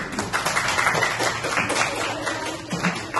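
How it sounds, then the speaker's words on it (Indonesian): Audience applause at a classroom teaching practice session, a steady dense clapping that holds for several seconds at moderate loudness with no voices over it. "Oke, kasih aplaus dulu."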